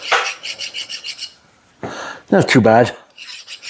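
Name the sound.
deburring a steel edge with a file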